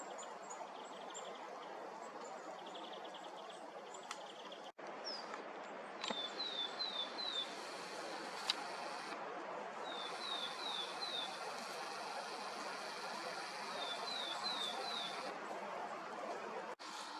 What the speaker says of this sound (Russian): Зеленушки на елке сидят.